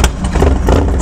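A Harley Dyna motorcycle engine fires up at a group ride, a loud close rumbling burst with lumpy low clatter over about a second.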